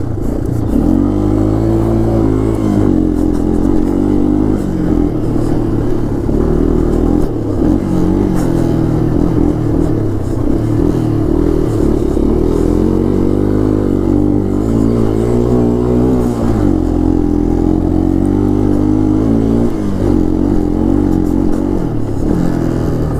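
A Yamaha Tri-Moto 200 three-wheeler drives through spring snow, its small engine droning loud and close with continuous labored revving and rattling clatter throughout.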